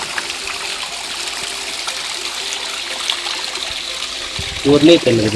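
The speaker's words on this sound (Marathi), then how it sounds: "हे वरून येणार पाणी" Clear water flowing down from above trickles steadily throughout at Shingnapur Guptling, with a brief louder burst of sound near the end.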